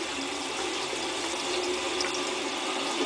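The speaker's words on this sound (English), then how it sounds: "Adding some water." Water pours in a steady, unbroken stream into a bentonite clay hair treatment, a close and even rushing sound with no voices over it.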